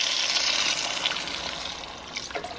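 About four cups of water pour into a cooking pot holding minced vegetables and bouillon base, a continuous bright splashing stream that thins and gurgles toward the end, close and alone.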